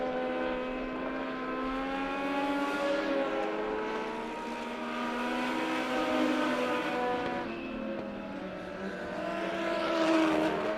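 Race cars in a heat race at Monett Motor Speedway, a loud continuous engine roar with rising and falling pitch as the pack sweeps past, sustained throughout with no talk.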